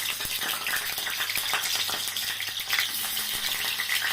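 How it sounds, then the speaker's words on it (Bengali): Potatoes fry in hot oil with a loud, crackling sizzle, steady and close, with occasional bubbling pops. "তেলটা গরম হলো, নিয়ে আমি আলুটা ছেড়ে দিলাম"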